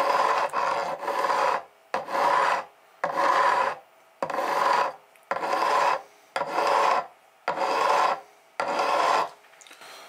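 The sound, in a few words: fret leveling file filing guitar frets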